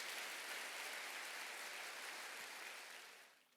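A church congregation applauds during a Sunday worship service, a steady, dense patter of clapping that holds evenly and then fades out at the end, faint and without voices.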